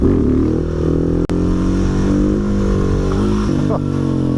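A Husqvarna 701 Supermoto single-cylinder engine pulling hard in third gear during a wheelie, a loud, close, steady droning roar with a brief dip partway through and slight rise in pitch.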